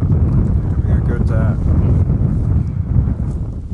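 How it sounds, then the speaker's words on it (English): Strong winter wind sweeps across Dartmoor moorland, buffeting the microphone with a constant low roar and rumble. A voice speaks through the gusts. "It's very windy"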